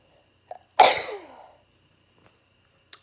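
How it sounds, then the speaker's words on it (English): A woman lets out a single loud, close sneeze indoors, a sharp explosive burst that trails off quickly, with a few faint clicks before and after in a quiet room. "Sorry, I feel like I'm gonna sneeze again now."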